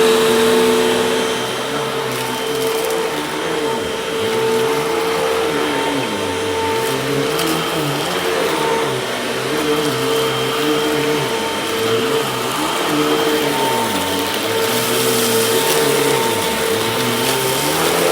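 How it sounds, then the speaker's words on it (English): A refurbished Hoover vacuum cleaner runs continuously nearby with a steady motor whine. A rhythmic low swishing pulses underneath, as if the machine is being pushed back and forth over a floor. "Newly finished vacuum."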